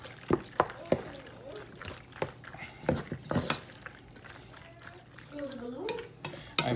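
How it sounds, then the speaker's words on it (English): White sauce mixture stirred in a pan, giving soft scraping and sloshing strokes in an irregular rhythm at moderate level, with a voice talking over it. "keep stirring."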